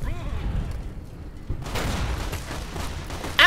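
Gunfire in the Fallout: New Vegas video game, a few sharp booming shots followed by a burst of rapid fire, loud and close, with a voice briefly heard.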